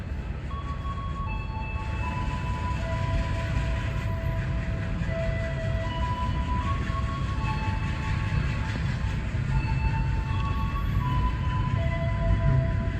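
A local Garut train passes near Padalarang station, a continuous low rumble of rolling wheels and carriages with several sustained tonal whines drifting over it throughout.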